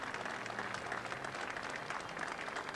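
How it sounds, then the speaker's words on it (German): Outdoor crowd applause at the funeral of Willy Millowitsch as his coffin is driven off the square, a steady, distant wash of clapping throughout. "Einen letzten Applaus für Willy Millowitsch, dessen Sarg jetzt hier vom Platz gefahren wird."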